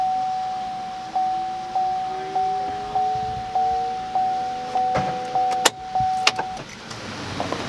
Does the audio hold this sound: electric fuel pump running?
yes